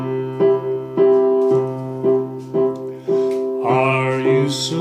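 A keyboard plays a left-hand accompaniment pattern in three on its own, repeating a steady low bass note followed by sustained chords in a clear waltz-like rhythm, with no voice over it.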